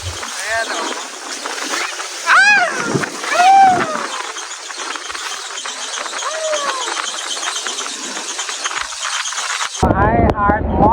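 Rough sea waves splash and slosh against a small island-hopping boat near Ungab Rock and Palad Sand Bar, with steady close water and engine-like noise under several people's voices and excited shouts.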